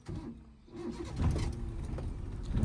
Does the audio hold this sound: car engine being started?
yes